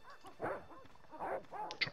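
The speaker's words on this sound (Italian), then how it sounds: "Qua ci sono sempre i cani?" Dogs in the Broken Sword adventure game bark in several short, yelping bursts with whimpering, fairly close and clear, without talk.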